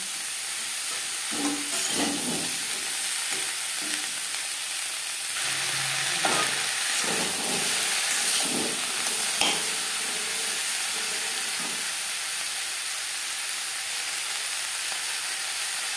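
Flat beans frying with onions in a pan, stirred over high to medium flame: a steady broadband sizzle runs throughout, with scraping stirs concentrated in the first ten seconds and no talking.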